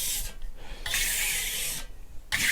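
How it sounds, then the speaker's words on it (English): A steel trowel burnishing a Venetian plaster top coat: three bright, rasping strokes of metal rubbing across the smooth plaster surface, close by, separated by brief quiet pauses. "I'm just finishing off the burnishing stage"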